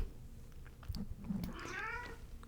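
A cat lets out a single drawn-out, wavering meow partway through, close and moderately loud over a faint background.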